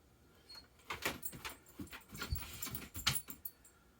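A dog whimpers from another room of a home workshop where a fender bib for a Harley-Davidson motorcycle is being made, heard as faint, broken whines mixed with nearby clicks and handling clatter.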